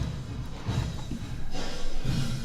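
Drums played through a small-room reverb preset from an Airwindows plugin, a short, tight ambience around steady low-pitched hits and a continuous wash of room tone lasting a couple of seconds.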